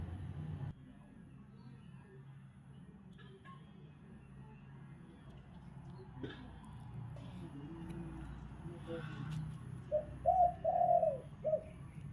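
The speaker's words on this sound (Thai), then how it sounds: "จะมีเสียงนกให้ฟังด้วยค่ะ" Soft, distant pigeon or dove coos come in a short series near the end over a quiet outdoor garden hum with faint background noise.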